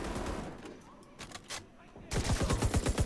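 Gunfire in The Division 2, with scattered shots early on and then a loud, rapid burst of automatic fire close up toward the end.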